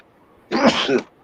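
A single loud sneeze bursts out close by, short and forceful, against a quiet background.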